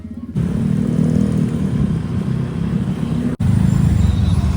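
A motorcycle engine runs close by in Calabuso, a steady low hum with a brief dropout partway through.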